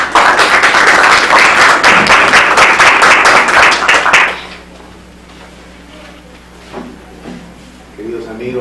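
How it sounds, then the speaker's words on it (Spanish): An audience at an arbitration library book event gives a strong round of applause to welcome the library director. Loud, crisp clapping fills the first half, then stops abruptly and gives way to a quiet room with faint murmurs. "Lo recibimos con fuerte aplauso."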